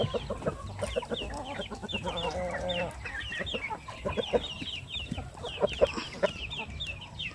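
Several Shamo Aseel hens cluck and squawk close by in a busy, overlapping chorus, with short sharp calls scattered throughout and a low farmyard murmur underneath.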